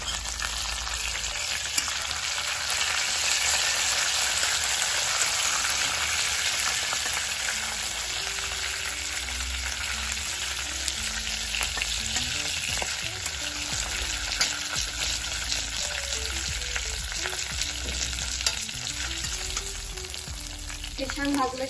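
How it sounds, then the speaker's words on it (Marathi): Dry red chillies and curry leaves fry in hot oil, giving a steady, loud sizzle with occasional stirring scrapes throughout, close up and with no talking. "आपण हे छान भाजून घेऊया व्यवस्थित तेलामध्ये"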